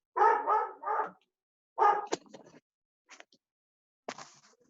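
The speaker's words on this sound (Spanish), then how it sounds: "Tenemos problemas con un perro" A dog barks in a sharp burst of two or three quick woofs, then one more bark, followed by fainter yips and scuffling noises in an otherwise quiet room.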